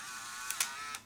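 A Rollei 35AF compact film camera's autofocus motor whirs faintly and steadily, marked by three quick mechanical clicks near the end, close and quiet.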